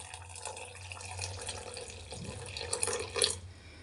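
Copper-vessel water being poured into a glass for a home hair remedy, a soft, close trickle and splash that builds toward the end, with no talking.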